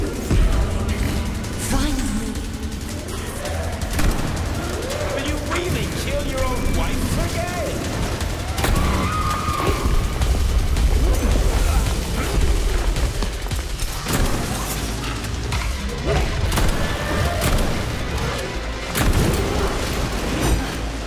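Weapon fire and booming impacts in Atomic Heart during a boss fight, dense and loud throughout, with scattered sharp shots and heavy thuds over continuous game noise, and someone talking at times.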